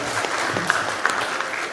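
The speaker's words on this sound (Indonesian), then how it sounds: "Beri tepuk tangan dulu buat," An audience at a panel discussion on customary law claps in a brief burst of applause, steady and fairly close, filling the whole moment without any talk.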